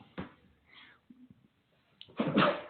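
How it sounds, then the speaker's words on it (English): A single sneeze bursts out near the end, loud and close, after some quiet breathing and faint murmurs. "That's your first radio sneeze."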